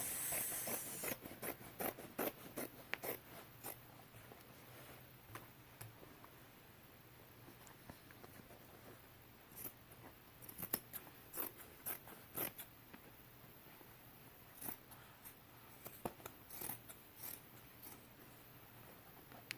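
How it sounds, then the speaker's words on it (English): Scissors snip repeatedly through a thick denim jeans side seam in quick, irregular crisp cuts, close and quiet, with soft rustling between them. "now it's as simple as just cutting up one of the side seams"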